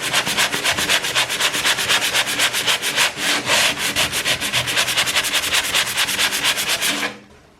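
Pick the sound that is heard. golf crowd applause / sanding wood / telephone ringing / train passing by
sanding wood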